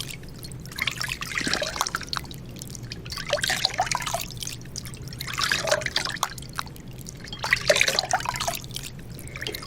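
Water splashes at a sink while a face is rinsed during a nighttime skincare routine, irregular splashing and dripping in repeated bursts over a steady low hum.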